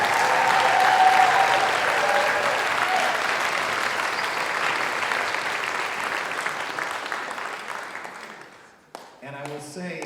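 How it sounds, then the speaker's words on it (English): Large audience applauding the 2024 seniors at a high school concert, sustained dense clapping that gradually fades over about nine seconds before a voice starts speaking near the end. "Once again, a big round of applause for all of our 2024 seniors."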